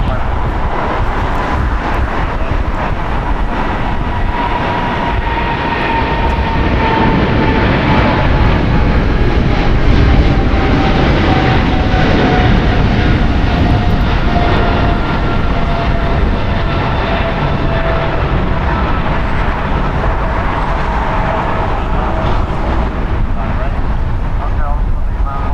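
An American Airlines Boeing 777 takes off at LAX with a loud, sustained engine roar and a descending whine, buffeted by wind noise, while a voice talks over it.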